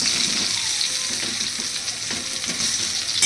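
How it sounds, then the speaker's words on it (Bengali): Potatoes frying in hot oil for a mutton and potato curry, a steady close sizzle and crackle filling the whole moment with faint stirring knocks underneath. "এই তেলটা গরম হলে আলুটা ভেজে নেব"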